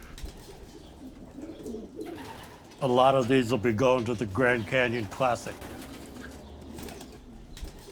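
Racing pigeons in a loft coo softly and steadily in the background while someone talks over them.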